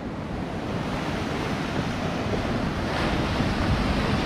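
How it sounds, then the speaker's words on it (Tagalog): Ocean waves break on the shore near a lighthouse, a constant, close hiss and roar of surf mixed with wind buffeting the microphone. "Yung mga alon, ang ganda."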